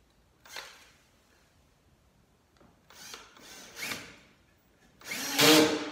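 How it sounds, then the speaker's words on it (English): A power drill bores pilot holes for screws in wooden boards being fitted as side rails on a Gorilla cart, heard as several short bursts of drilling, the last one longest and loudest. "drill a couple pilot holes for the screws"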